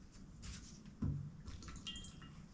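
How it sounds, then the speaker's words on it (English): Small pieces of meat swirled by hand in a bowl of water while being cleaned, soft sloshing and dripping, quiet and close with one louder splash. "Just gonna swirl it in this water."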